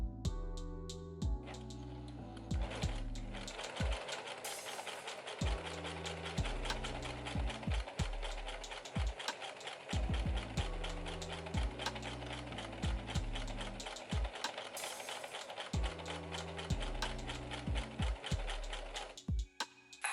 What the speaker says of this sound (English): I'm going to sew like a straight stitch just to attach them together